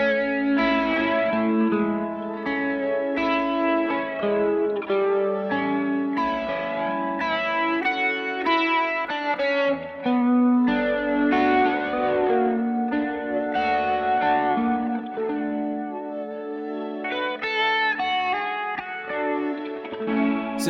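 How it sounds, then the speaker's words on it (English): An electric guitar played through a pedalboard with flanger and reverb rings out in sustained, swirling chords and melodic lines, heavily effected and continuous for about twenty seconds with no talk. "I can maybe use my flange with some reverb."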